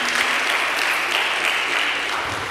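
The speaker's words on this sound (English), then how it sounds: "Give yourselves a round of applause." At a college forum, an audience gives itself a round of applause: a continuous, even wash of clapping from a room full of people, loud and close throughout.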